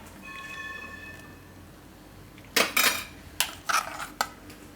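Almond paste scraped into a pot of milk for a badam shake, heard as several sharp metallic clinks and scrapes of a spoon against the pot after a quiet stretch, close and fairly loud.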